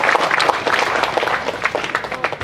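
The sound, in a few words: audience applause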